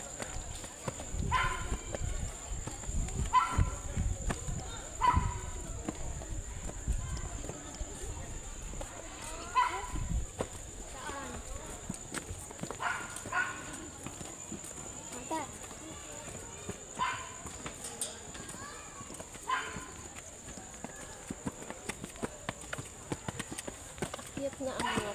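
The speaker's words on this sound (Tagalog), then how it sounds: "Ayun kabayo. yung kabayo ko, hinihintay ako." A horse's hooves clip-clop in a loose, repeating rhythm on an outdoor trail, fairly close, while people talk over and around the steps throughout.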